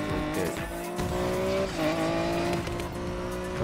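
Racing car in the Need for Speed Payback video game, its engine droning steadily at high speed with a tire squeal sliding in pitch, loud and continuous with no talk.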